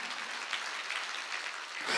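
Church congregation clapping in unison during a Sunday worship service, a steady wash of hands that holds at moderate level for about two seconds and swells slightly at the end.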